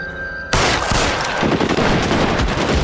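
Sustained gunfire from a shootout in the video game LA Noire, beginning abruptly after a short quiet lead-in and continuing as dense, loud overlapping volleys of rapid shots.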